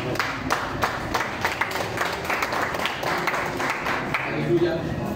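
A church congregation breaks into sustained applause, many hands clapping together in a close, continuous patter with crowd murmur underneath.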